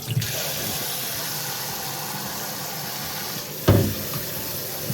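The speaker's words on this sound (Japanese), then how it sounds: "ひじきの方を水は2回か3回ぐらい変えて洗ってもらえればいいかな" Dried hijiki seaweed gets rinsed in water, with a steady close wash of running or sloshing water that ends in a sharp splash near the end, and nobody speaks.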